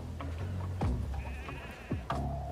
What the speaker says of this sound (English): our friends, the sheep and Jackie, have made it back to Mother Base safely